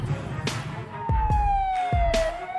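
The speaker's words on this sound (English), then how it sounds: "Air raid sirens wailed nonstop." Air raid sirens in Israel wail over a city under missile and drone attack, and a long tone slowly falls in pitch while heavy thuds and rumbles sound underneath.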